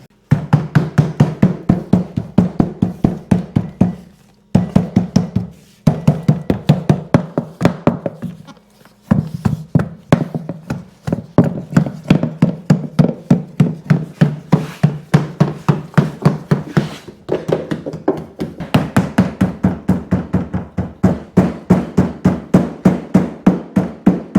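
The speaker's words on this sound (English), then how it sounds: "Yep, I gotta roll it now." A hand roller presses a custom jet trim mat onto the deck of a Yamaha SuperJet stand-up watercraft, making a steady, fast rattling clatter of close, loud clicks. The sound runs almost continuously with only a few brief pauses.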